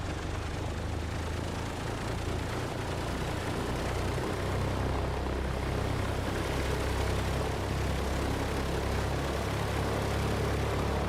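A DC-3's propeller engines running up in Microsoft Flight Simulator, a steady, loud, broadband drone with a low throbbing hum that holds constant throughout.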